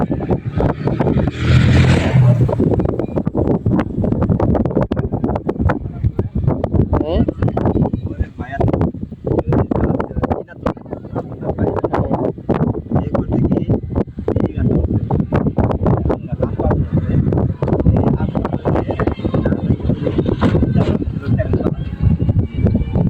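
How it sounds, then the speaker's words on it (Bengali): Strong gusty wind buffets the microphone continuously on the Dhaleshwari River in Manikganj, Bangladesh, roaring and rumbling, with a voice speaking briefly underneath. "প্রচণ্ড বাতাস"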